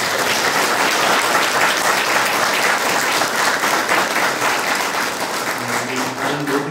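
A church congregation at an anniversary thanksgiving service applauds in a dense, steady burst of clapping that fills the room, with a few voices emerging as it tapers off.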